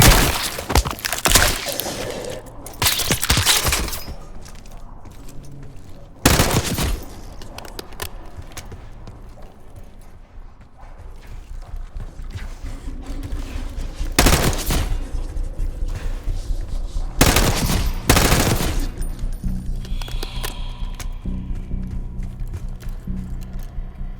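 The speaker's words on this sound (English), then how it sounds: "You hearing gunfire?" Sharp, loud bursts of video game gunfire from Call of Duty: Black Ops 6 crack out in irregular clusters over a steady background rumble, with distant clattering between volleys.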